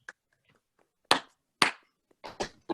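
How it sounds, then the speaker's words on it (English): A handful of sharp, isolated claps sound close and sparse, with irregular gaps of silence between them rather than a full crowd ovation. "Let's give a great round of applause for Miss Sarah and Michael for their 2 wonderful"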